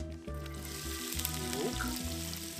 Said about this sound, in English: Nice and hot. First we're gonna put the onion.